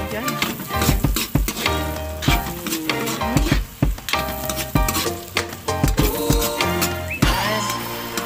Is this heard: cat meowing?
no